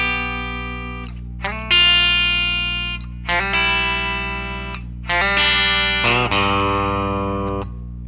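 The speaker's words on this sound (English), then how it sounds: "The main opening riff to this song sounds like this." Electric guitar plays the opening riff, bright sustained chord stabs struck in repeated bursts with a lightly driven tone, loud and alone with no voices.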